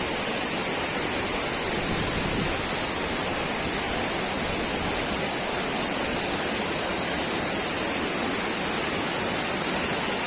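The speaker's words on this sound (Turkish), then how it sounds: "Ve şelaleye gelmiş bulunmaktayız." A waterfall in Aladağlar National Park, Yahyalı, Kayseri, Turkey, roars in a dense, unbroken hiss of rushing water, loud and steady with no other sounds.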